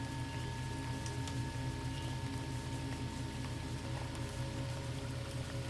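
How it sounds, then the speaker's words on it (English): Steady rain with a constant low rumble and soft hiss, unchanging and even throughout, with no voices. "The rain remains steady."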